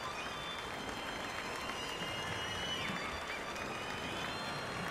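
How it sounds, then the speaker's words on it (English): A steady wash of applause rises continuously from a Fortnite applause emote, even and moderately loud, with no talk heard over it. "I'm applauding your violin playing."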